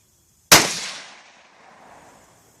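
A single sharp gunshot cracks out at close range and then decays into a fading outdoor echo, with no talking.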